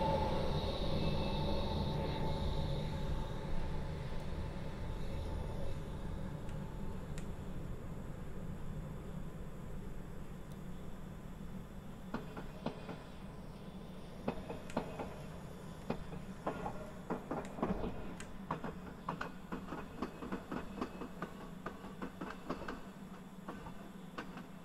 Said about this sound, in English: that train's departing towards Aldgate East